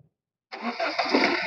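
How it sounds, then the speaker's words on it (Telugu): A 2014 Honda City V i-DTEC diesel car with about 80,000 km starts after a brief silence. The engine catches on a single crank and settles into a close, steady running roar. "బండి స్టార్ట్ చేస్తున్నారు."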